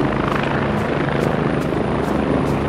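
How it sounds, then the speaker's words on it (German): Helicopter from the video game Squad, on the Gorodok map with British infantry: a loud, steady rotor drone with a faint rhythmic blade pulse running throughout, no voices. "Ist das immer noch der Heli?"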